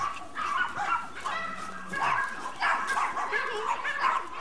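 Papillon puppies yipping and barking in short, high, overlapping bursts, close by, with soft whimpers and a person talking gently underneath.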